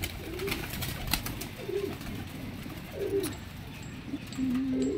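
Several long-beaked, long-necked pigeons in Lahore coo in short, soft, repeated phrases, close by, over a low background murmur.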